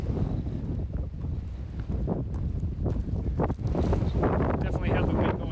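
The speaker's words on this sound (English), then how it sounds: "this is the wind that I'm used to up on Prairie" Wind blowing hard on a Prairie Mountain hike, a steady roaring gust noise buffeting the microphone throughout, with a voice speaking under it.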